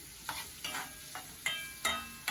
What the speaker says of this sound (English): And some freshly cut, thinly sliced onions. It can be any shape. It doesn't matter. It's all gonna melt down. And start stirring.